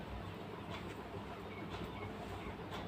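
Sliced onions frying in a pan with bay leaf, a dense continuous sizzle and crackle, close and steady with no talk.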